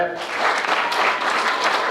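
A crowd at a Mondlo community thanksgiving event claps for young men from Ward 18, a steady wash of many hands at moderate loudness, with a voice briefly audible at the start.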